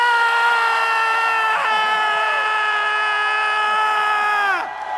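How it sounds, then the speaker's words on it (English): A large convention audience in Omaha screams together at full volume, a loud sustained wall of crowd voices that holds steadily for several seconds before dropping off near the end. "we, for 1 minute, are going to scream as loud as we can"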